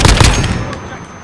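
Rapid gunfire from the combat game Modern Warfare: a close, loud burst of several cracking shots in quick succession that tails off into a fading echo.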